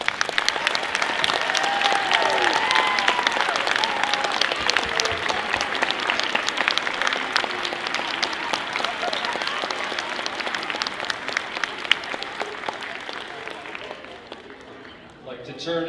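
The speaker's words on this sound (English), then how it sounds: "Let's give all these students a round of applause." An audience at a sixth grade academic recognition ceremony applauds for students, a long steady round of clapping with some crowd voices mixed in, gradually thinning out toward the end.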